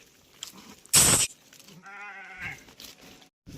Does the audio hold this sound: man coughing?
no